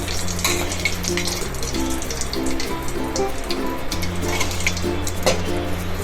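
Steady crackling sizzle of sesame seeds popping in hot oil for a dhokla tempering, continuous and close, with a low hum running underneath.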